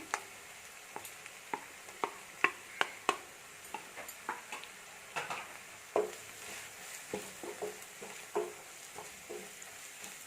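A spoon scrapes and taps steadily in a pan of frying Dhaba style chicken curry as coriander powder is stirred in, with sharp clicks over a soft sizzle and no talking.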